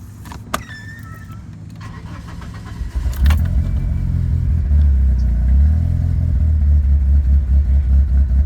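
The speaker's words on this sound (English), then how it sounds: "It runs and drives good. Definitely is a little, has a weird idle to it." A Mitsubishi Eclipse GS turbo with a weird idle, starting with a few clicks and a key jingle before the engine fires up and settles into a loud, close, uneven idle with a wavering, lumpy drone.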